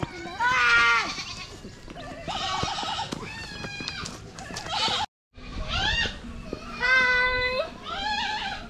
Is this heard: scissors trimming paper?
no